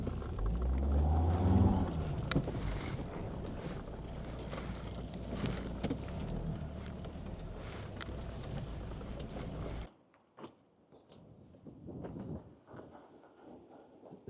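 A Volvo XC90 with suspected all-wheel-drive trouble gets a sharp throttle stab, a loud continuous mechanical roar with spinning-wheel noise for about ten seconds, then dropping abruptly to a faint idle rumble.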